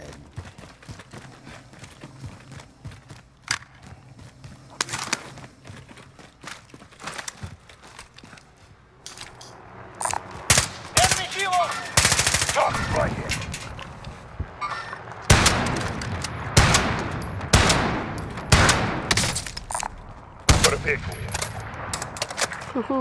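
Machine gun fire in Call of Duty Modern Warfare comes in rapid bursts, sparse and quieter at first, then louder and denser with heavy repeated volleys toward the end.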